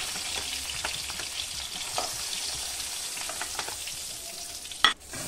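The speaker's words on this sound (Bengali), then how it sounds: "বাদ বাকি চিংড়ি মাছকেও আমি ঠিক এইভাবেই ভেজে নেব" Prawns frying in oil in a pan give a steady moderate sizzle with occasional stir scrapes and a sharp clatter near the end.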